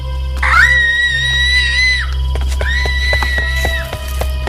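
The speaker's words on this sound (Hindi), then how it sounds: "तभी उन्हें किसी कुएं के अंदर से किसी के चिल्लाने की आवाज आई।" A girl who has fallen into a well screams for help: two long, drawn-out, high-pitched cries, each lasting about a second and a half, heard loudly over a low, steady hum.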